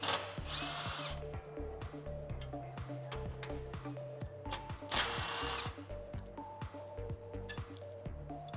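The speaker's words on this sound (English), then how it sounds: "I'm gonna use a 21mm socket to remove the 2 bolts on the passenger side." Power tool with a 21mm socket spinning off passenger-side bumper bolts on a Jeep Wrangler JL, two loud buzzing bursts over steady rattling impacts, close up with no speech.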